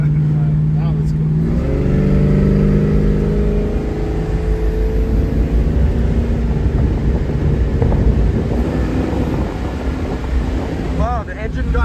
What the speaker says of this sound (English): Imagine driving down the highway this loud.